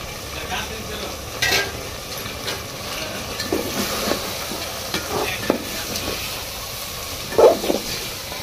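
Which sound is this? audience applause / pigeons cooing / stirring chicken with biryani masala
stirring chicken with biryani masala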